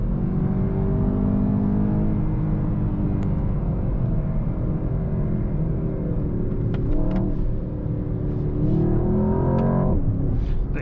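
A 2024 Mercedes-AMG S63 V8 sedan driving at about 80 km/h, a steady close engine drone with road rumble inside the cabin and a slight rise in revs toward the end, no voices.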